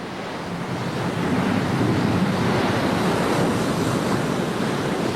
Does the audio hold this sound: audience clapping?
no